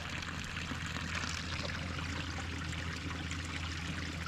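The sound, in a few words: water flowing from a mountain spring pipe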